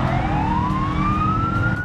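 Wailing police car siren from the BeamNG driving game sweeps steadily upward in pitch, loud and close over a low engine rumble, alone for under two seconds.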